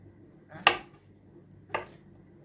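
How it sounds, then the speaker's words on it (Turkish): A knife slicing mushrooms into half-moon pieces on a cutting board for a creamy mushroom pasta, two distinct close chops about a second apart in a quiet kitchen. "Böyle yarım ay şeklinde mantarlarımızı doğruyoruz."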